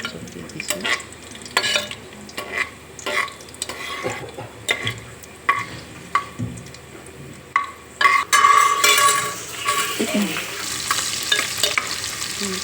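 Cashews, raisins and bay leaves fry in refined oil for a pulao: a bubbling sizzle broken by repeated rhythmic scrapes and clacks of a spatula in the pan, growing louder and more crackly toward the end.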